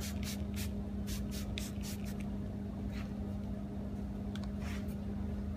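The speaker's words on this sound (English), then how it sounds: "you can use a pressure washer and clean it away" A steady, hissing spray from a pressure washer with a constant motor hum underneath, close and continuous, with occasional bursts of splatter.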